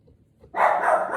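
A dog barks loudly and close by after a brief quiet start, one sustained burst of barking that continues to the end.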